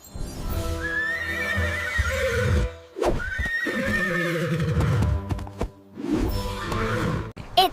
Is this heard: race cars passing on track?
no